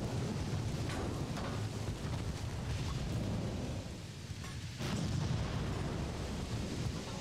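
Naval gunfire in the warship game Ultimate Admiral: Dreadnoughts during a point-blank Royal Navy engagement, heard as continuous heavy rumbling booms and blasts that roll on without pause, dense and loud with no talk over them.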